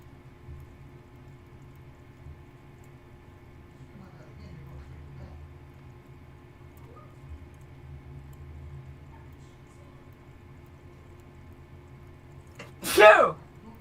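A single loud, sharp sneeze bursts out near the end after a long stretch of quiet low background hum.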